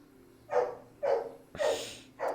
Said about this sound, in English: I need to let in some dogs because they're barking at the door loudly, which you can probably hear.